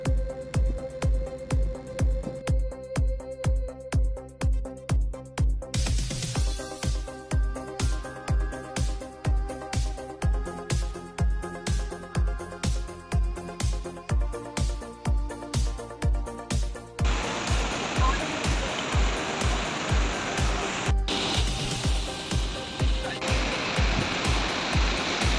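Water flows at Tiger Lake in Jiuzhaigou, first under steady regular tapping beats, then opening into a fuller, continuous rushing wash for the last stretch.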